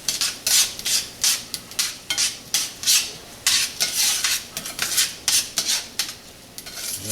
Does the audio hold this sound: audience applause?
no